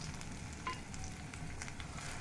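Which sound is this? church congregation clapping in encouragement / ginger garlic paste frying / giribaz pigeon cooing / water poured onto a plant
ginger garlic paste frying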